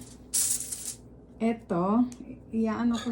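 Aluminum foil is pulled and crinkled for wrapping a Filipino pork meatloaf, a brief bright rustle near the start followed by someone speaking.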